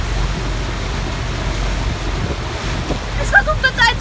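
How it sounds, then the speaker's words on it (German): Open sea off Mallorca as a following boat's wake slaps around a rented yacht, a steady rush of water and wind buffeting the microphone, with brief sharper splashes toward the end. "Es macht wirklich zu krass Welle."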